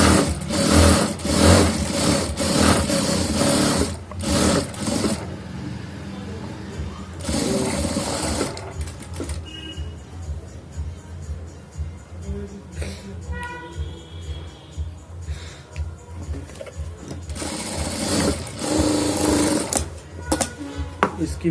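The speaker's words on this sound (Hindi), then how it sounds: "इस तरह से इसकी ये सिलाई होती है" Electric sewing machine stitching a shirt, loud rapid whirring runs in several bursts, pausing briefly between seams, with quieter handling noise and faint background sounds during the gaps.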